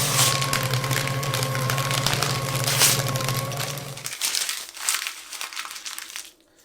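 A sheet of paper is crumpled into a ball, giving a dense, continuous crinkling close to the mic, with a low steady hum under it for four seconds before the crackles thin out into scattered crunches and stop.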